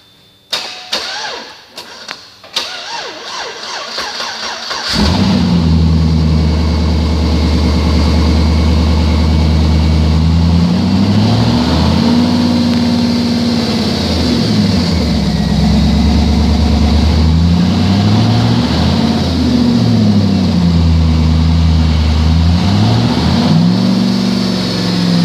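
A 2009 Chevrolet Avalanche with its exhaust cut off after the catalytic converters cranks with a few sharp starter pulses, then catches and settles into a loud, deep, rumbling idle that rises and falls slightly in pitch.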